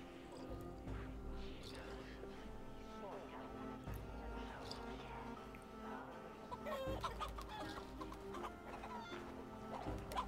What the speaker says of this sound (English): Look, that's like four chickens in one.